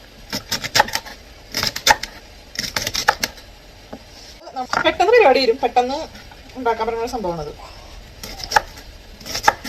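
A knife chops asparagus on a board in a Kerala home kitchen in quick bursts of crisp taps, interrupted partway by someone speaking over it.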